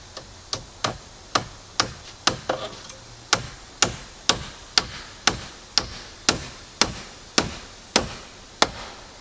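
A hammer drives a toenailed nail into wood while a tractor shed is being extended, about twenty sharp, evenly spaced blows, close and crisp, with no talking.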